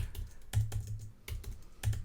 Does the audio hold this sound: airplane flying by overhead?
no